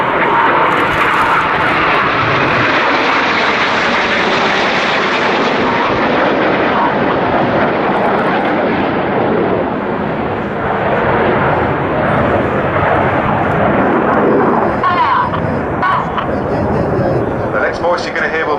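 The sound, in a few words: Red Arrows RAF jets flying display manoeuvres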